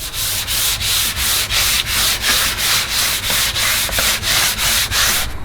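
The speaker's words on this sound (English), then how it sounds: "now I'm going to give it a little blast with 3000 grit sandpaper" Carbon fibre spoiler being sanded by hand with 2500 grit sandpaper: loud, close, evenly spaced rasping strokes, about fourteen back-and-forth passes in steady rhythm with nothing else heard.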